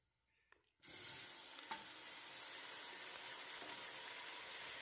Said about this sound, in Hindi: लहसुन और अदरक का पेस्ट भी 4 से 5 मिनट तक हम फ्राई करेंगे